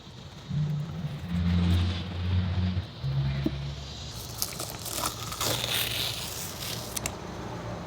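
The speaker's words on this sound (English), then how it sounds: "and then we're gonna pull the skin back" Skin is peeled back from a freshly caught Arkansas catfish, a close tearing, rasping rip that builds and crackles for several seconds, with some low background rumble underneath.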